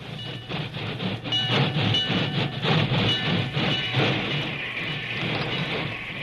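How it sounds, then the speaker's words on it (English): A work train rumbles and clatters along the main track, a sustained locomotive whistle wailing over the rolling rhythm of the wheels. "a wailing locomotive whistle announced the work train's arrival on the main track"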